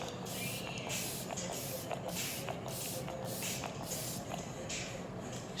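A fine setting-spray mister puffs repeatedly in an even rhythm, about a dozen short close hissing bursts over a steady background hum, with no talking.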